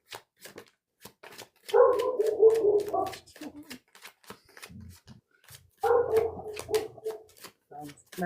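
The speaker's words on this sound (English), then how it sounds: "Is it just the one dog causing all that ruckus?" A single dog barks in bursts of rapid, loud barking, two clear bouts separated by pauses, with people talking throughout.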